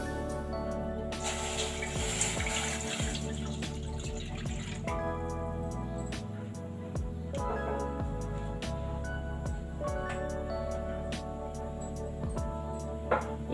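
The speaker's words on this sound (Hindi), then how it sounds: "अब मैं इसमें पानी ऐड करूँगी" Water poured into a cooking pot set on a lit gas stove, a steady splashing and trickling stream close by with dripping sounds, running continuously under light background noise.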